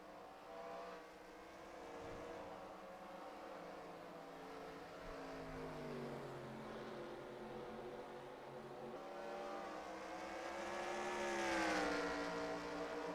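Stock cars in NASCAR Racing 2003 race around Watkins Glen, their engines droning and whining at a distance. Pitches rise and fall as the pack spreads out, swelling louder near the end, with no voices present.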